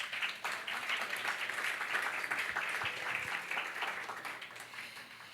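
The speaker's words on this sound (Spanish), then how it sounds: "Un aplauso para nuestro..." A church congregation claps in a sustained burst of applause, many hands at once, fairly soft and steady, then tapering slightly at the end.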